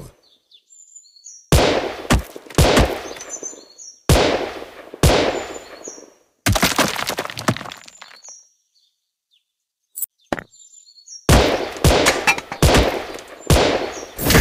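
Gunfire in the shooting video game Gun Spirit, loud close bursts of rapid shots in several clusters separated by short silences, with faint chirpy game sounds in the gaps.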